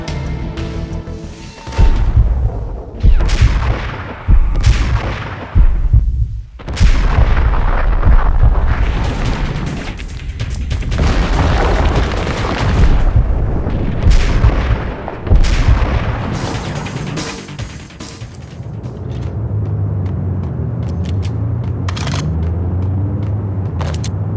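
Gunfire in the 2001 video game Max Payne, repeated loud booming shots and explosive bursts in a rapid irregular barrage, followed by a lower rumbling lull with scattered impacts.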